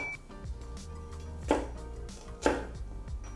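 A knife chops through green onions on a cutting board, two sharp, close thuds about a second apart standing out over low, steady background noise.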